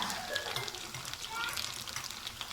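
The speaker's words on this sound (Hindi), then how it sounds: "इनको फ्राई करना है।" Potato pinwheels frying in hot oil, giving a steady bright hiss and bubbling sizzle, close and fairly quiet, with faint background voices.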